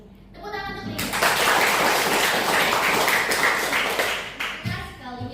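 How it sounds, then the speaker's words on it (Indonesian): Applause breaks out in a classroom group session, a sustained burst of many hands clapping for about four seconds, with a voice speaking briefly before and after. "Tepuk tangan untuk Dinda."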